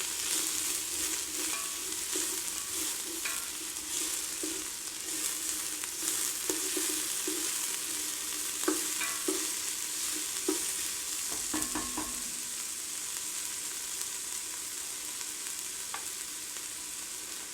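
A spoon stirs tortilla soup ingredients in a pot on a stovetop burner, giving a steady soft sizzle with scattered scraping clicks and a few louder knocks near the end, close and moderate in level, with no talking.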